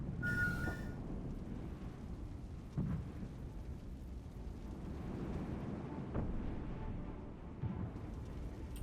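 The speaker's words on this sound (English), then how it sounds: "That's heavy artillery coming in" Heavy artillery explosions in a military strategy video game, deep low rumbling booms rolling in at a distance, a few sharper impacts standing out over a continuous muffled battlefield roar.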